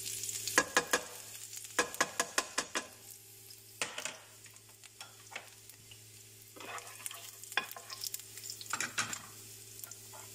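Garlic fries in hot oil for shawarma, a soft sizzle under a steady hum, punctuated by bursts of rapid spatula taps and scrapes against the pan, close and without voices.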